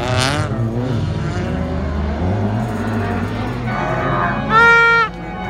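A Renault Clio race car's engine drones and revs during a race, with a steady, loud roar that rises in pitch near the end, heard under an excited commentator's voice.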